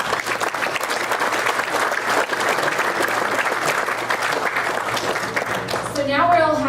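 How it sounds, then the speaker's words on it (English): An audience at a lunch panel applauds with sustained, even clapping that holds steady for several seconds, then tapers off as a voice begins speaking at the end. "Let's give these guys a round of applause."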